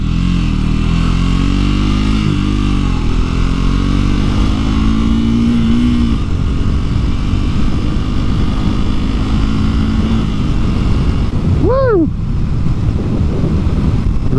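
A Triumph Speed 400 single-cylinder motorcycle cruises steadily in top gear at mid-50s speed, a constant engine drone under heavy wind rush, with a brief rising tonal chirp near the end.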